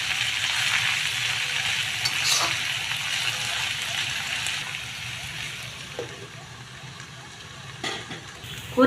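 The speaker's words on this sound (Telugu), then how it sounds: "కొద్దిగా వేగనిద్దామండి." Fenugreek leaves and taro frying in a pan, a steady close sizzle and hiss throughout, with a few faint clinks near the end.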